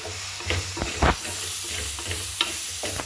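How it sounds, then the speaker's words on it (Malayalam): Tomatoes and onions sauté in a pan, a soft continuous sizzle broken by several scraping stirs of a utensil, close and moderately loud, with no talking. "തക്കാളി നന്നായി വഴറ്റിയിട്ടുണ്ട്. നന്നായി ഉള്ളിയും തക്കാളിയും എല്ലാം വഴഞ്ഞ് നന്നായി വന്നിട്ടുണ്ട്."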